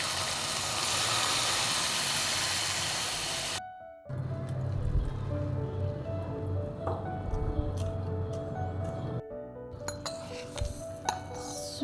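Boiled and cooled milk pours into a pan of roasted ingredients for mango falooda, a steady close hiss of liquid that stops abruptly, followed by quiet clinks of utensils and glass.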